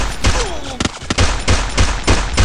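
Rapid bursts of gunfire from a shooting video game crack out in close, loud volleys at a steady rhythm, with no talk over them.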